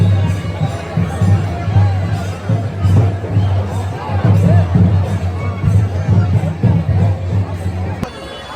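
A dense crowd at a village fair in Ballari, with loud overlapping chatter and hubbub, a low steady hum beneath, and a few voices rising above the babble.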